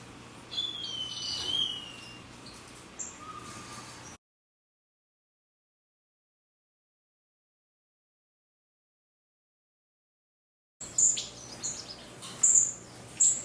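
Small birds chirp and tweet in a backyard aviary in winter, faint high calls over low background hum, broken by a long stretch of silence before louder chirps return.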